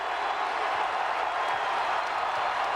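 Home crowd at a Vanderbilt basketball game against Kentucky cheers after a dunk, a sustained broadband roar of applause and shouting that stays loud and even throughout.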